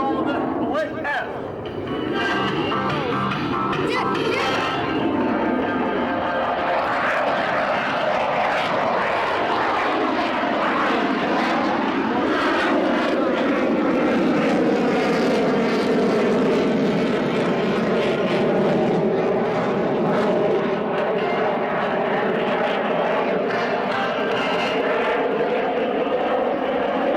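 A fixed-wing aircraft at a 1998 Michigan air show pulls a split S, its engine roar sustained and loud for the whole stretch, rising and shifting in pitch as it reverses direction, with faint talk from a commentator beneath.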